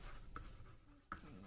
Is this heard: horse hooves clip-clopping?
no